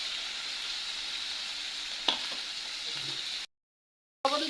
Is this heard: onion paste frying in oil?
yes